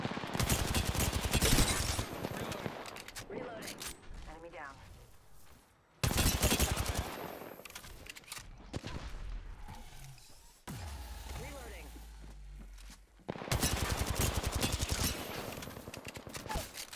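Video-game gunfire from teammates in a squad shooter: bursts of rapid shots and clatter come in loud blocks, dropping to quieter stretches in between, with a voice talking over much of it.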